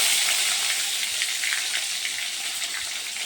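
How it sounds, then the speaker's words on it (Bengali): Bitter gourd pieces fry in hot oil for a home-style Bengali shukto, a steady dense sizzle holding even and close throughout with no voices. "এখন আমি এগুলোকে সবগুলোকে একটা একটা করে মানে একটা একটা পদ করে করে একটু ভেজে নেব"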